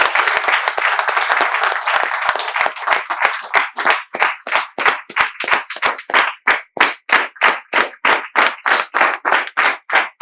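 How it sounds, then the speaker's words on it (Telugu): A group of spoken English students applauds in a classroom. The scattered clapping quickly settles into loud, synchronized rhythmic claps, evenly spaced at about three per second. "మీరు ఈ వీడియో చివరి వరకు చూడాలని మేమందరం మీకు చప్పట్లతో స్వాగతాన్ని తెలియజేస్తున్నాం."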